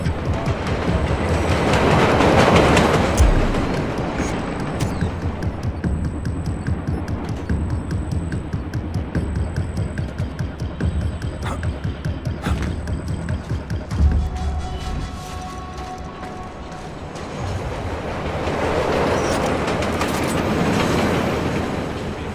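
A train in the video game Splinter Cell Blacklist rumbles along steadily with rhythmic clattering and a constant metallic hum, louder at the start and end.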